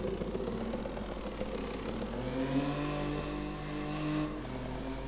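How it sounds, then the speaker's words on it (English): A video game motorbike engine revs steadily, its pitch climbing and falling through the gears, loud and close with no talking. "So this motorbike's quite loud"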